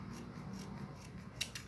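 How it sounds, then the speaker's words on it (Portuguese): Small scissors snip through ribbon while a bow is made, a few quiet metallic cuts with a sharper snip near the end, close and faint without talk. "Vou fazer aqui com a tesoura."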